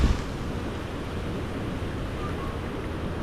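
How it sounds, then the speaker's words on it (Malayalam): Strong wind roars steadily on a steep mountain road between Killar and Kishtwar in India, a constant, loud broadband rush with no voices. "അത്യാവശ്യം കുത്തനുള്ള കാറ്റാന്ന് തോന്നുന്നുണ്ട്."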